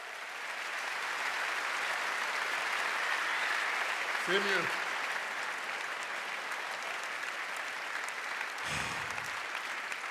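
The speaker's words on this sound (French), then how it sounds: "Un tonnerre d'applaudissements" Steady applause fills the room from a sizable comedy show audience at Montreux Comedy, with a brief spoken phrase and a short thump partway through.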